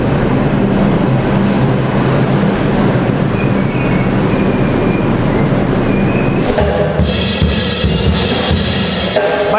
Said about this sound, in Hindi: भाई मेट्रो स्टेशन के अंदर मस्ती छा रखी है ये। टाइम स्क्वायर का मेट्रो स्टेशन है ये।